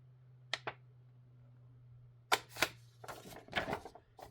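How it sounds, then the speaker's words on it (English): Small scissors snipping folded paper for a Victorian rose house folio craft, a few crisp, close cuts: two quick snips, a pause, then a faster cluster of cutting clicks over a faint steady hum. "Then I just take a little pair of scissors."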